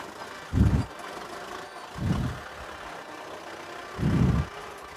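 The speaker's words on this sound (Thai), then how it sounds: "กำลังพาชมวีดีโอการทำงานของรถไถ RM6040 เนื้อจูคันนี้ นะครับ" A used 2011 Kubota M6040SU farm tractor running, its engine rumbling low with three distinct swells of revving at regular intervals over a steady idle.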